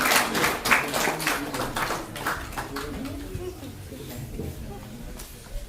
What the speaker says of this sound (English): I will give an applause for him